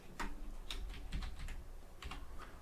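Keys on a computer keyboard tap in a short quick burst, about a dozen soft close clicks, typing into the Windows 10 search bar against a faint room hiss.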